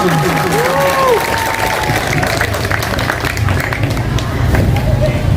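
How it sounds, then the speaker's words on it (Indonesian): Children at a morning school assembly clap in a lively burst, a dense crowd wash mixed with shouting voices and background chatter, loud and sustained throughout. "Tepuk tangan anak yang meriah."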